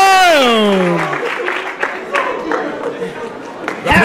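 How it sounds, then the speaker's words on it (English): Wrestling-match crowd cheering and applauding after a moonsault, a loud roar that opens with a sliding excited vocal cry, then settles into a sustained, diffuse wash of clapping and crowd noise under commentary. "And the crowd goes wild."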